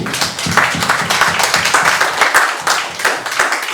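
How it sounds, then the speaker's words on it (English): At a think tank launch event, a small audience gives a round of applause: fairly close, individually distinct claps in an uneven rhythm that holds steady throughout. "I think you should give yourself a round of applause"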